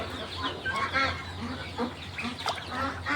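Chickens on a poultry farm cluck steadily while drinking lemon-mixed water, with several birds making repeated soft clucks and brief calls close by and no talking.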